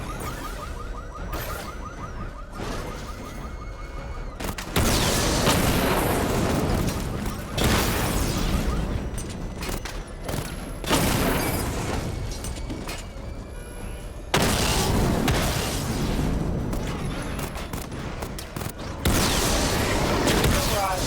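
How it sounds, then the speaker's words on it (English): Rapid volleys of missile explosions and whooshing blasts from the Batmobile's missile barrage in Batman: Arkham Knight, loud and dense, surging in waves with a few brief quieter gaps between bursts. "Charge the missile barrage to level 2 to destroy up to 4 targets at once."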